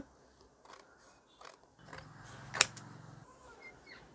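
Scissors cut blouse fabric along a marked pattern shape for a size-40 blouse, with a few faint snips followed by a close, longer creaking cut and one sharp metallic click in a quiet room.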